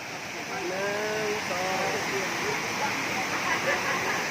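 The Kuang Si waterfall near Luang Prabang, Laos, roars steadily as a constant wash of falling water. A voice talks over it throughout.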